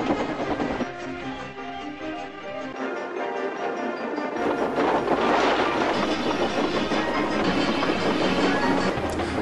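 A steam tank engine runs along the rails in the Trainz railway simulator, its wheels clattering steadily and growing louder and busier partway through, with a dense, continuous mechanical rumble.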